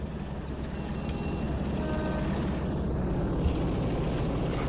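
A Class 45 diesel locomotive in Train Sim World 2 running with a steady, dense low rumble and drone that holds at an even level throughout, with faint tonal whines above it.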